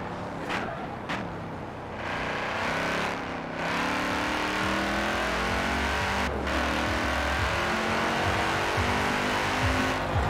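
An Audi RS6 in Forza Horizon 4 roars loudly and up close, the engine revving and accelerating through several gear shifts with brief dips, then holding a sustained high-rev howl with faint tire squeal.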